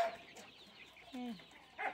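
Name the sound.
imported layer chickens clucking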